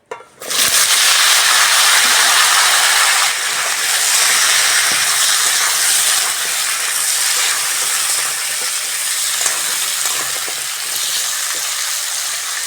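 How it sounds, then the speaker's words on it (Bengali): Pumpkin frying in hot oil tempered with dried red chili, a loud close sizzling hiss that bursts in abruptly and holds steady throughout, with no voices. "ওই তেলের মধ্যে শুকনো লঙ্কা ফোড়ন দিয়ে কুমড়োটা ভেজে নেবো"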